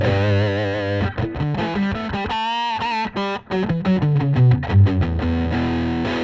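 Electric guitar through a Sunn 100S amplifier with a Rat distortion pedal, played as a loud, saturated riff with sustained chords and short choppy breaks, thick and fuzzy, with no talking.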